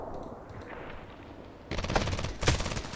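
Sniper rifle gunfire in a video game, a loud burst of shots that sets in partway through over a quieter game background, with a second sharp blast near the end.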